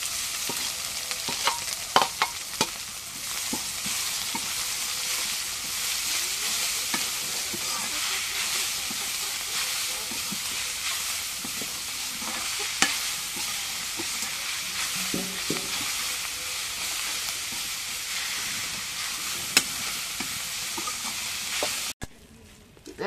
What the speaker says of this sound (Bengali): এখন পেঁয়াজ মরিচ ভাজা হয়ে গেছে, এখন শাকগুলো দিয়ে দিই।